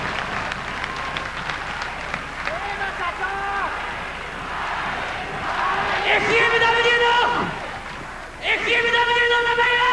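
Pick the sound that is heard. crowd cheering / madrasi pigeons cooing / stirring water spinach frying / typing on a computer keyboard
crowd cheering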